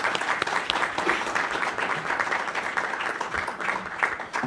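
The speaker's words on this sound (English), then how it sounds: "I want to give a round of applause to all the panelists for being here today" An audience at a policy panel on entitlement reform applauds the panelists, with steady, dense clapping that holds at an even level throughout.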